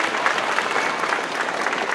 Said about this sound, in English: Give them a round of applause if you're ready.